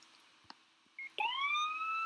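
A police car siren starts up partway through, sweeping upward and then holding a steady wail, fairly close, after a few faint clicks and knocks.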